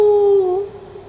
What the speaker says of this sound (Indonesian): Makanya suara lolongan anjing itu terdengar ketika daratan mereka diangkat oleh langit.